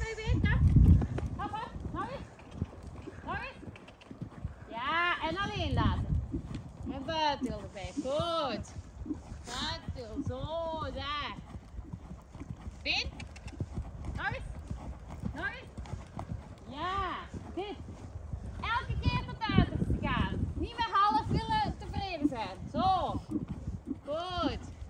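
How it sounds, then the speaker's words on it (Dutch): Haflinger horses trot steadily during a riding lesson, their hooves clip-clopping in an even, continuous rhythm, while a voice speaks over the hoofbeats throughout. "En nu mag je rustig gaan draven."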